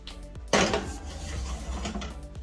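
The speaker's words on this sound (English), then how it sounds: "We're gonna pop this in the oven." A metal Bundt cake pan clanks sharply as it is set onto an oven rack, followed by lighter rattling and scraping of the rack, close and fairly loud in a home kitchen.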